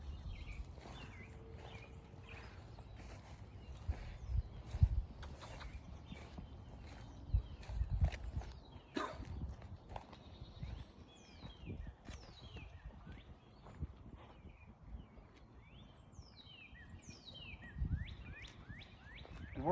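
A two-year-old horse grazing on fresh green grass outdoors on a farm makes faint, scattered tearing and soft hoof steps, while birds chirp and tweet repeatedly nearby in a quiet setting.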